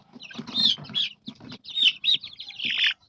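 A large-breed Dumpo Tanaka chicken makes short, close clucks and squawks in quick bursts, separated by brief pauses.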